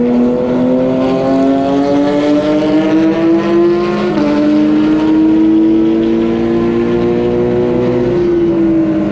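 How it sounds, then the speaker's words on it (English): Race cars, including a Porsche, drone steadily on a warm-up lap at Watkins Glen, a loud, close engine tone holding pitch with a slight rise and a shift midway, no talk over it. "Look at me keeping up with the Porsche on a warm-up lap."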